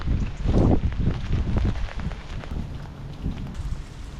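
Rain falls steadily in the Parc du Tabor, a dense hiss of drops under gusting wind that buffets the microphone, loudest at the start and then settling.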